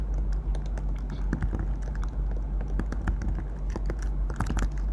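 Steady rapid clatter of keys on a computer keyboard as code is typed, close and continuous with irregular bursts of taps over a low background hum.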